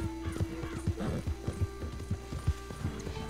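A horse in the video game Red Dead Redemption 2 trots with steady rhythmic hoof clip-clops, and a brief whinny rises in the middle; no talking.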